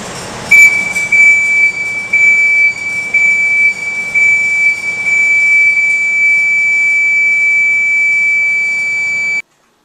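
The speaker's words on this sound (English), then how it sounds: "When the alarm sounds constant, the crane is in overload." A crane overload warning alarm on a SpyderCrane mini crawler crane: a loud, steady electronic tone sounding continuously after a brief start, a piercing constant buzz that cuts off abruptly at the end.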